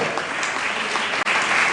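Loud, continuous clapping from a crowd at a wedding ceremony greets the chairman of the occasion, dense and close throughout, with a brief sharp dropout near the end.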